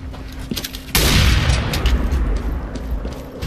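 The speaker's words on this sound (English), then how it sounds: "Deploying flashbang." In a video game, a flashbang grenade goes off with one loud, sharp blast, followed by a sustained ringing, noisy wash that lingers close and dominant.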